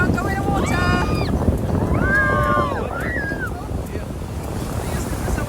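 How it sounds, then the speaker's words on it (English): Surf breaking on a beach in India, a broad steady wash of waves with wind buffeting the microphone, while people talk over it in the foreground. "Look at those waves, guys."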